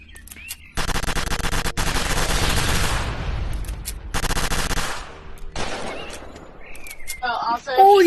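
Rapid bursts of automatic gunfire at a shooting range in the Rec Room VR game, loud and close, coming in several long sustained volleys separated by brief pauses, with scattered game sounds between them.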